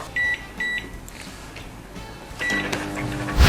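Microwave oven heating instant Japanese rice: a low steady hum runs under two pairs of electronic beeps, the first pair early and the second near the end, closing with a loud clunk of the door.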